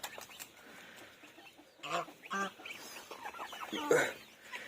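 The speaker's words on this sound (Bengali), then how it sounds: "এই মুরগি যেটাকে এখনই ছাড়লাম" Chickens cluck in short, scattered bursts nearby, with quieter gaps between the calls and a louder squawk toward the end.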